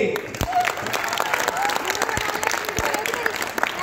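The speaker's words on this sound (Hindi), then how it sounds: "गुरु ठोको ताली" An audience at a college students' speech programme claps steadily and continuously, a dense wash of applause heard from within the crowd.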